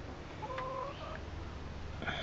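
Chickens clucking near a backyard coop, a few soft murmuring clucks and one brief higher call against a low background hum, fairly faint and with no talking.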